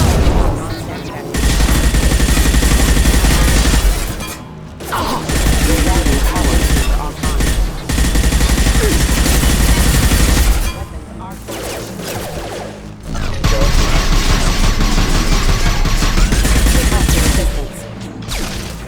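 Sustained bursts of loud gunfire from the sci-fi shooter Mass Effect 2, rapid automatic fire with brief pauses between volleys, overlaid with game voices and combat effects.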